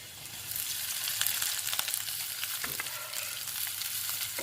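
Coconut, chilli and shallot paste sautéing in a pan for a tender jackfruit stir fry, a steady close sizzle with soft scraping stirs throughout and no talking.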